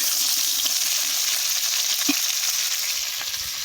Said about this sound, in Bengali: তেলটা গরম হয়ে গেছে, এবার ভেন্ডিগুলো দিয়ে দেবো।